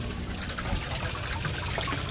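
A koi pond aerator bubbles and gurgles steadily, a soft continuous trickle of water with no voices over it.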